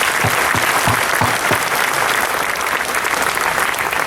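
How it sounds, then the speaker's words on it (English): A large crowd at a Memorial Day address applauds loudly and continuously, a sustained wash of clapping with a few sharper claps standing out early on. "Please join me in another round of applause for our Congressman John Carter"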